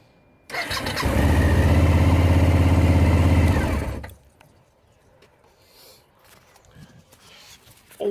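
A Suzuki DL1000 V-Strom motorcycle engine cranks and fires up, then runs loudly and steadily for about three seconds close by before cutting off abruptly, leaving quiet background noise.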